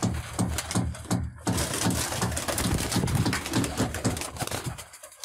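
Loft pigeons coo continuously in a dense, rhythmic, throbbing chorus, with low pulsing calls overlapping one another close by.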